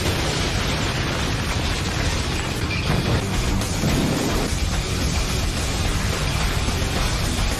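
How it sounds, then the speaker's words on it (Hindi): A fireball jutsu explosion from an anime fight in Naruto erupts as a dense, roaring blast of fire, loud and sustained with a swelling rumble midway through, with no talking over it. "Fire style, fireball jutsu."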